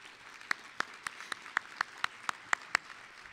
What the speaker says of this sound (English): So let's have a round of applause for Emily Scheib.